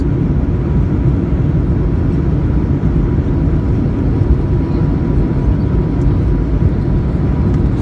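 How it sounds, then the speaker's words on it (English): A Norwegian Boeing 737-8JP with winglets lands at London Gatwick under full reverse thrust, a loud, steady, deep roar filling the cabin without a break. "Good touchdown. And full reverse."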